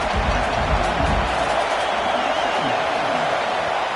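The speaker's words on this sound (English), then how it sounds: "Listen to the crowd energy here in the early going." A college football stadium crowd during an early-game rivalry matchup, a steady broad roar of many voices filling the whole stretch without pause, loud and continuous with no distinct cheer peaks.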